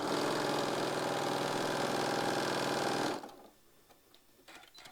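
A sewing machine runs steadily while stitching a quilt block, a loud, fast, even whir for about three seconds that then stops, leaving faint handling noises.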